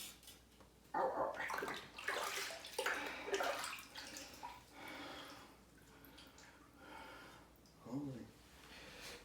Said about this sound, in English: Let me just quickly rinse them.